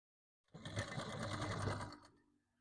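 A sewing machine double-stitches a seam on a katori blouse, one short burst of quick, even motor-driven stitching lasting about a second and a half before winding down, close and fairly quiet.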